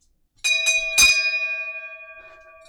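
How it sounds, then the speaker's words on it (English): A bell is struck a few times in quick succession, then one clear tone rings out and slowly fades. "So there's the bell"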